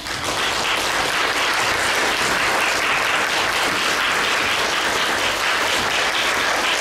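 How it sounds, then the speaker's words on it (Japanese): An audience at the Tokyo International Film Festival applauds to welcome actor Koji Yakusho on stage. The dense, sustained clapping from a large crowd holds steady and loud for the whole stretch, with no talking over it. "どうぞ皆様拍手でお迎えください。"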